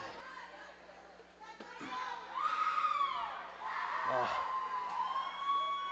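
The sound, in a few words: crowd cheering after a lacrosse goal in arena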